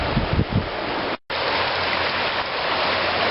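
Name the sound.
fast water flowing in a shallow river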